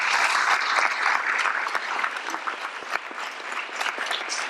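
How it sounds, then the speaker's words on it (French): Dense, steady applause from a conference audience in Bègles after a talk by climate scientist Jean Jouzel, sustained hand clapping filling the room at close range with no speech over it. "on peut l'applaudir, oui, merci."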